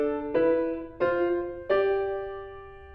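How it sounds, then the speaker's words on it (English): Three separate pairs of notes sounding a fifth apart, such as C with G moving up to D with A, are struck one after another in a steady, stepwise line. Each dyad rings clearly and decays slowly, alone and fairly soft. "So this is what parallel fifths sound like."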